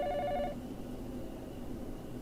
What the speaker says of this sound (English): The phone rang, cutting him off before he could get down to business